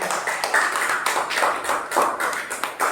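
Clapping from a class of students congratulating a student group in a classroom, with uneven rhythmic claps that swell in bursts, close and fairly loud, no voices over it.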